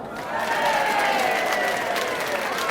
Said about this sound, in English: Alright, now clap.